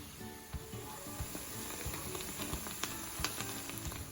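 Onions and peppers sizzling softly in a pan while being pushed around, a steady fine crackle and hiss with occasional light scrape and tap sounds from the utensil, close but fairly quiet, no voices.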